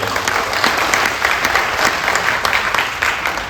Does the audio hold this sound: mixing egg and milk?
no